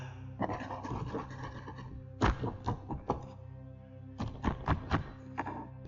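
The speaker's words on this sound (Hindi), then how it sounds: "ऐसा लग रहा था कि उस कमरे में कोई सामान इधर से उधर कर रहा हो।" Objects being shifted around a room, scary-story sound effect: scattered thuds, knocks and scrapes in irregular clusters with short quiet gaps, moderately faint and with no voice.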